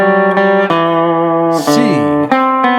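A Telecaster Deluxe electric guitar plays a country lead line from the chorus of a song: clear, bright picked notes ring loud and close, with a quick string bend in the middle.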